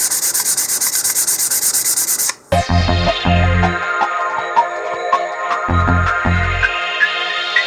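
Hand sanding with 220 grit sandpaper smooths the seams of a custom-built model rocket's nose cone. Fast, even scratchy rubbing plays up close at first, then breaks into short strokes with light taps and pauses.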